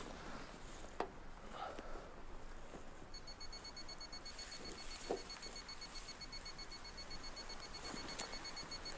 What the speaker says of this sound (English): a beeping sound which tells me how strong the signal is.